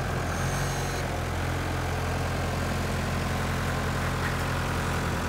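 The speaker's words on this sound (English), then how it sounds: "It's a TC40A, that's a little bit newer tractor," A New Holland TC40A compact tractor with a front loader bucket idles steadily, a low continuous engine drone heard close by with no talking.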